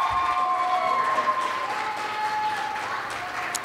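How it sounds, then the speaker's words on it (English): Audience applause at an open mic afternoon event, a steady dense wash of clapping lasting throughout, with faint tonal hum and background voices mixed underneath. "give a round of applause and a thank you to Danielle Izzo Buckner and the ASAP staff"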